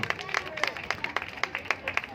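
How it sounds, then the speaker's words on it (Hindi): Scattered, fairly faint handclaps from an audience greeting a blanket distribution event, with a steady irregular rhythm of claps over a low murmur of crowd chatter. "एक बार जोरदार तालियों से स्वागत कीजिए।"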